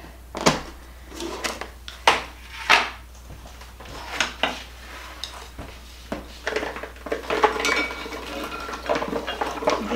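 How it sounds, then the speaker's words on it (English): Big plump soaked butter beans tipped into a crock pot, a run of clattering knocks and scrapes against the pot, sharp hits at first, then a busier rattling stretch, close by with no talk. "let me get my beans in my crock pot"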